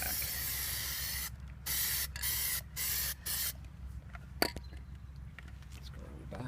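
A spray can applies a thick coat of Plasti Dip to a Porsche 991 wheel in several close, loud hissing bursts of about half a second each, separated by short pauses and followed by quieter handling noise.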